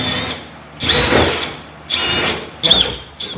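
Power drill whining in three separate bursts as the bit bores through a Volvo S40 body panel, with a short fourth burst at the end, close and loud.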